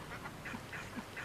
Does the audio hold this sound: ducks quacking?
yes